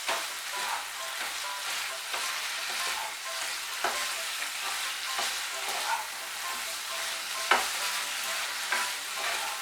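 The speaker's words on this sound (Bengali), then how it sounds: "তেলটা ভালো করে মিশিয়ে নেব।" Raw mustard oil being stirred into drumstick chorchori in a pan, with a spoon scraping and clacking at an irregular rhythm over a steady, soft sizzle of the vegetables cooking.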